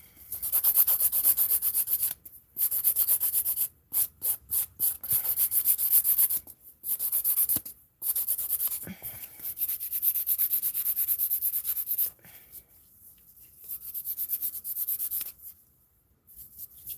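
A nail file rasps against a long acrylic nail in close, loud bursts of rapid scratching strokes separated by brief pauses, fading into softer intermittent filing toward the end.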